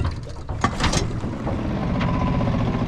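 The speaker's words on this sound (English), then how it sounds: "Now we give it a good pull with the choke out." An outboard boat motor is pull-started with the choke out: a sharp burst of cord-pull clatter, then the engine catches and keeps up a steady, close, rough idle with no talking.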